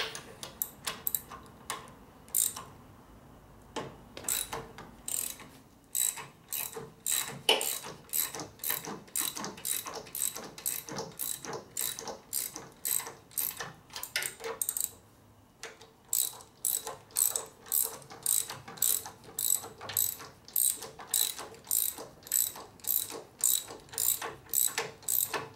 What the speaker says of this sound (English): Now let's see if we can torque these down.